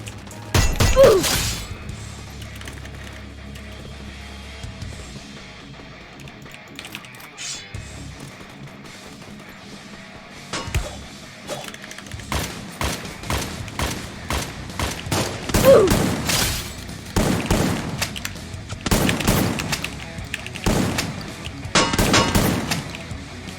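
Bursts of gunfire from the shooter game Free Fire with sharp metallic clangs and glassy cracks, loud volleys separated by quieter stretches, growing busier toward the end.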